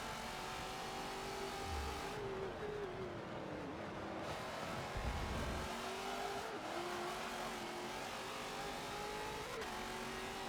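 Race car engines drone steadily through a Forza Motorsport 7 race, holding a continuous whine with gear-shift dips and brief tire noise, loud and constant without talk.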